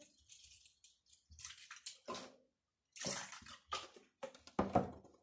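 Milk pours in splashy bursts with short pauses, close by, a steady stream gurgling into a container.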